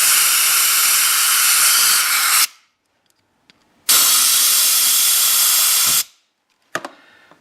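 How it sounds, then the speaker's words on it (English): An air compressor nozzle blows out the carburetor of a 1981 Maico 490 GS Enduro dirt bike: two loud, steady hissing blasts of about two and a half seconds each, separated by quiet, followed by a brief faint puff. "just blew everything out with the air compressor"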